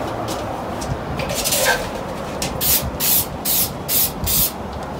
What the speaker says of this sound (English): You're gonna spray the paper with your spray gun.